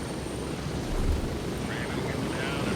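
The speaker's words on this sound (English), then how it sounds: "So we got the chopper that comes in." A helicopter arrives in the military shooter game Gray Zone Warfare, making a steady, dense rotor and engine roar that holds at an even level throughout.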